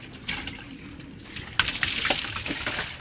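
Water gushing from a hand pump while someone bathes outdoors, a soft trickle that turns into a louder, splashing pour partway through, close by.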